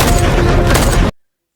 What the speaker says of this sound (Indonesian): ledakan tiba-tiba terjadi, sehingga aksi baku tembak antara tim pengawal dan anggota gangster pun tidak terhindarkan lagi